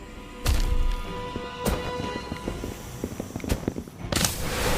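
Expelliarmus spell effect from the Harry Potter Magic Awakened video game: sharp, booming blasts and crackling impacts, with a big hit at the start and others spread through the clip, loud and close.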